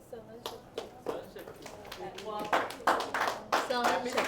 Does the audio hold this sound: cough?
no